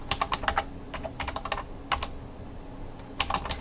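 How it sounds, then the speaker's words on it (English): Typing on a computer keyboard in short clustered bursts of quick clicks, separated by pauses, fairly close and moderately loud with no voices. "I can't type and talk at the same time."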